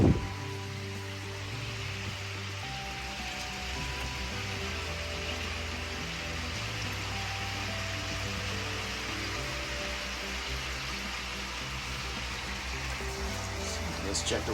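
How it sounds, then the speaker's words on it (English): Water draining through an opened valve on a koi pond barrel filter, a steady rushing, gurgling flow with a low pump-like hum beneath, continuous and fairly close. "Now I open this valve to drain it."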